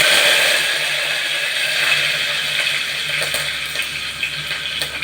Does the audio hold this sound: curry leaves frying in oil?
yes